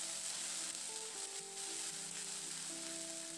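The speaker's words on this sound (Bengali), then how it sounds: "এবার এই মশলাটাকে নাড়াচাড়া করে একটু কষিয়ে নিতে হবে।" Masala spice paste frying and being stirred in a pan with a splash of water for an egg and boiled potato dish, a steady close sizzle running throughout with no voices.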